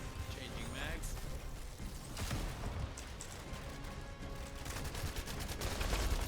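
Rapid sustained gunfire from The First Descendant as magazines are emptied during a boss fight against Gluttony, dense bursts and crashes under a voice talking throughout.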